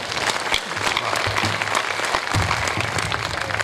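An audience at a Hindi comedy and poetry show applauds loudly with dense, sustained clapping that holds steady throughout, and no voices are heard over it.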